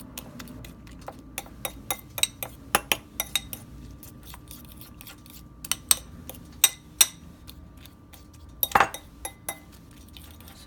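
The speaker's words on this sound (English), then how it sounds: "Now we're gonna mix it nicely." A utensil whisks an egg and spice mixture with black pepper and green chili in a bowl, giving rapid irregular clinks and taps against the bowl, close and moderately loud, with no talking.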